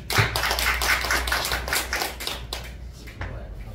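Audience at a lecture on a Dangun Wanggeom opera clapping: a short burst of fairly dense applause that thins out and fades over a few seconds, with no one speaking.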